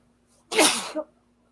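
A single sharp, close sneeze bursts out of near silence and ends with a short trailing breath.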